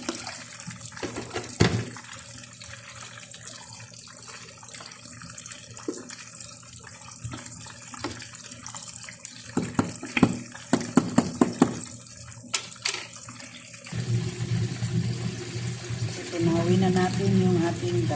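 Water splashes and pours steadily into a pot, growing fuller toward the end, with brief clatter and kitchen noises beforehand.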